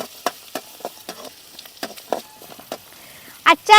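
Finely chopped garlic frying in oil for an elephant yam pickle, heard as a soft crackle with a series of close stirring scrapes and taps against the pan at an irregular rhythm.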